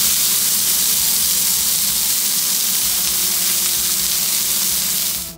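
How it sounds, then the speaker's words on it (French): A beef steak laid in a hot pan with a splash of vegetable oil gives a steady, loud, close hiss of sizzling fat that carries on unbroken before cutting off abruptly. "Une fois la poêle bien chaude, ajoutez un filet d'huile végétale et déposez votre steak."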